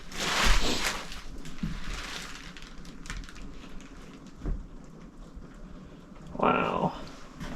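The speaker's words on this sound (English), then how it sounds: "You can hear all the rain, not the rain, the water dripping onto the tin roof." Water from quickly melting snow drips onto a tin roof of an abandoned old homestead on a 50-degree day, a steady rain-like patter with occasional louder drops and sharper taps close by.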